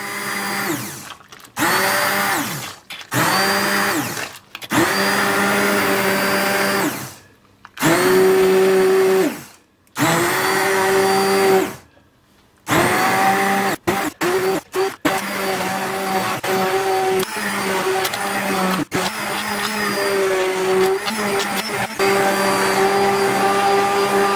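A blender purees a pot of simmered nettle soup, its motor whirring loudly in repeated bursts that stop and restart before settling into a long steady run with no talking.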